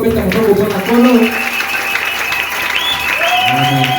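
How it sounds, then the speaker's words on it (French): A church congregation applauds and cheers for the Lord with steady clapping under sung and shouted voices, a lively worship crowd filling the room. "Nous pouvons acclamer pour le Seigneur."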